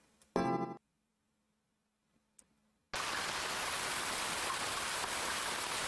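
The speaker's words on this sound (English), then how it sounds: "I can hear the sound of rain." Steady rain from the visual novel Ame no Marginal, a dense, even hiss that swells in and holds, following a short burst of music and a faint click in near silence.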